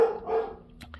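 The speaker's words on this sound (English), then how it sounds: "my dogs are barking" Household dogs bark in a brief, close burst, with a loud first bark followed by a couple of quicker, sharper yips as it fades.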